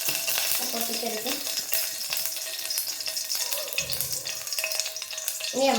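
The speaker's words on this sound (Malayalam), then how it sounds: "നല്ലെണ്ണ ചൂടായതിനു ശേഷം നമ്മൾ ഈ എണ്ണ ഇതിലോട്ട് ഒഴിച്ച് കടുക് വറുക്കാം" Mustard seeds splutter and crackle in hot sesame oil in a pan, a dense close sizzle with scattered sharp pops and occasional stirring scrapes, heard alone without speech.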